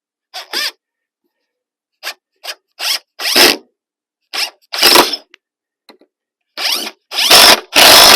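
A power drill driving a screw into lumber during a wood storage build, sounding in short loud whirring bursts separated by silences, with the later runs longer and heavier, all close up.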